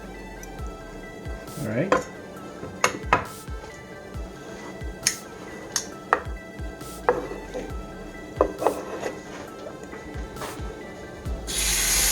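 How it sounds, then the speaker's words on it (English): A knife chops wagyu steak into small pieces on a board, with irregular sharp taps and knocks scattered through the passage and a brief spoken remark. "Cut the rest of the steak into small pieces, just like so."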